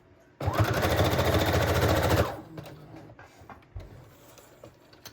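A sewing machine stitches patchwork with green thread, a loud steady rapid whir for about two seconds, then stops, leaving quiet handling clicks and faint room noise.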